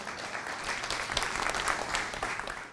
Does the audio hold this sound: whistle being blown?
no